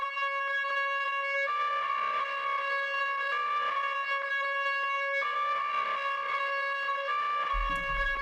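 Distorted electric guitar lead panned to one side, holding long, bright, sustained notes that shift pitch every few seconds, loud and steady throughout with a low thump near the end.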